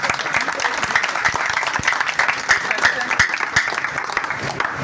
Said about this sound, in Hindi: तो ताली बजा कर सर एक बार